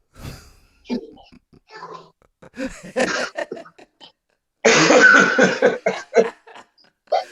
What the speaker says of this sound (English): And you the only one in there coughing.